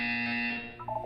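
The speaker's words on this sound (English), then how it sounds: "When you hear the buzzer, look down at the floor." A harsh electronic buzzer in the video game Portal 2, a loud steady drone with bright overtones lasting about a second, alone.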